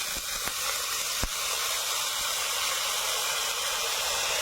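Chopped cabbage fries in mustard oil in a home kitchen for chicken chowmein, giving a steady loud sizzle and hiss with a few sharp clicks of stirring near the start.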